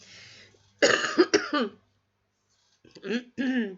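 A few harsh coughs in quick succession, loud and close, then a short pause followed by two more rough coughs.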